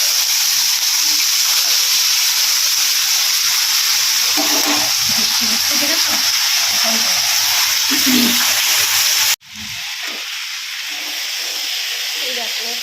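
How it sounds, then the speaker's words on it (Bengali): Fish frying in a pan with onion nearby, a steady sizzling hiss running throughout, briefly cut off then resuming more quietly; heavy rain is falling in the background. "মাছটা এখন ভাজা চলছে।"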